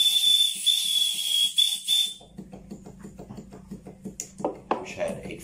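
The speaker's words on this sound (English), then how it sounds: "Celebration whistle." A shrill whistle from a large-scale live steam model locomotive blows steadily for about two seconds, then stops as a person starts talking.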